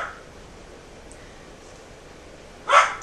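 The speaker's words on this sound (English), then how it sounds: "He's like, let's bark. That'd be fun. Let's bark." A single sharp dog bark rings out near the end after a stretch of near silence, fairly close and loud against a faint indoor background.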